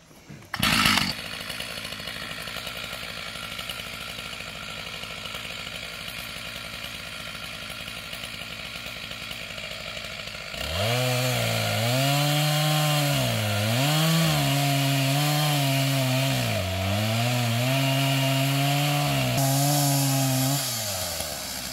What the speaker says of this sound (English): We're gonna do a plunge cut on it, and once we hit that trigger,